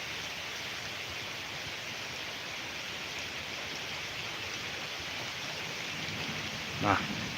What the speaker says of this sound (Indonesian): ini udah mulai hujan lagi sobat